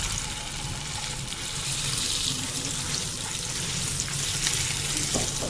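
Chopped onions and a ground paste sizzle and crackle steadily in a pan, with a continuous close frying hiss and occasional stirring scrapes throughout.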